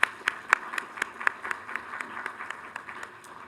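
Sparse, distant clapping at an awards event honoring finalists, a steady run of separate claps roughly every quarter second, faint and unhurried.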